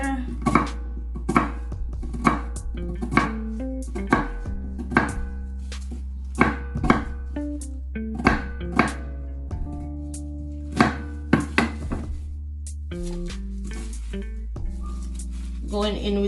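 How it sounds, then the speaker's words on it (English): A knife chopping ginger on a cutting board for Jamaican jerk seasoning, sharp irregular thuds in quick bursts with short pauses, close and clear over a steady low background hum. "Next, I'm gonna cut up ginger."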